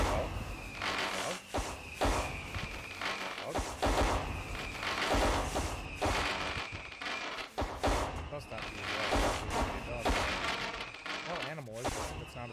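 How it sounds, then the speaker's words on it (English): Fireworks launched in the video game Human: Fall Flat pop and crackle in rapid, dense bursts, loud and continuous for several seconds, mixed with voices in the background. "Alright, no more fireworks, please."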